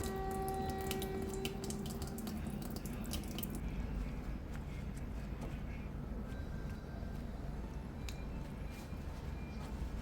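Tap water runs steadily into a sink while raw chicken wings are rinsed for a homemade BBQ recipe, a close, even splashing hiss with a few brief clinks.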